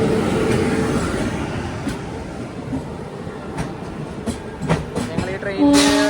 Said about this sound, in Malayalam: ഇന്ത്യയിലെ ഏറ്റവും ദൂരത്തിലോടുന്ന 4ാമത്തെ ട്രെയിനായ നവ്യുഗ് എക്സ്പ്രസ് തിരുനെൽവേലി ശ്രീമാതാ വൈഷ്ണോ ദേവി കത്ര